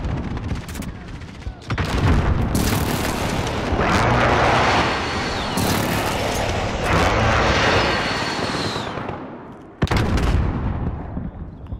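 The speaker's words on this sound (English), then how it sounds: "Be advised, friendly precision airstrike inbound." Precision airstrike explosions in Call of Duty: Modern Warfare, a near continuous barrage of loud, heavy blasts and rumbling detonations mixed with gunfire, with a brief lull before another sharp burst near the end.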